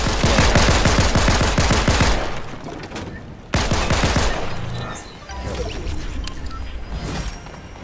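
Video game gunfire rattles off in a long rapid burst, stops, then fires again in a second burst, followed by scattered single shots and clatter, loud and close with no talking.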